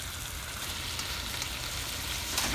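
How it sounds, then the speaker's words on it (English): Steady, dense sizzling of turkey bacon frying in a hot wok, continuous crackle and spatter close up, with no talking. "I added my turkey bacon in, and it's cooking"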